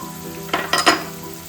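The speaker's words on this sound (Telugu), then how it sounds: "ఒక 2 స్పూన్ శనగపప్పు, ఇది వేసుకొని కొంచెం వేయించుకోవాలండి." Chana dal and sesame seeds fry in hot oil with a continuous sizzle. Three quick stirring scrapes land close together in the middle of the clip.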